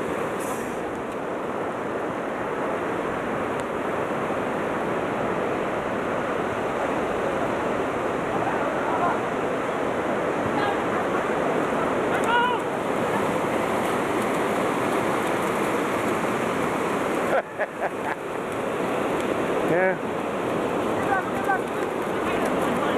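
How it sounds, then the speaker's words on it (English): Ocean surf rolling steadily onto Manuel Antonio beach, a continuous broadband wash with swelling surges close by, people talking over it at times. "Tide is coming."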